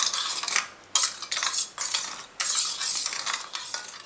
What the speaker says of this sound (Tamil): இதில் இப்போ இதை கொஞ்சம் கலந்து விட்டுடலாம்